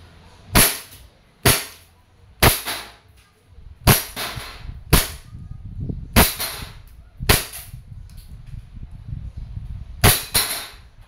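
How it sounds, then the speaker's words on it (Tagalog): An E&C Glock 19X airsoft gas pistol fires about nine sharp, snappy shots at irregular intervals, each crack close and loud over faint background noise. "Firing."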